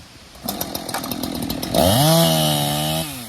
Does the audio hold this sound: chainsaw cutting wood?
yes